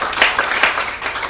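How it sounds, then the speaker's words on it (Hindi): A church congregation applauds during a Hindi sermon on the power of the blood, a dense steady wash of clapping with small swells, close and fairly loud, with no voices over it. "एक और तालियां यीशु के लिए।"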